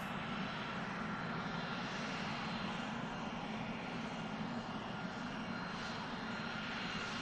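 A jet airliner flying for Scandinavian at Manchester Airport gives off a steady, distant engine roar, a continuous broadband rumble that stays even and fairly faint for the whole stretch.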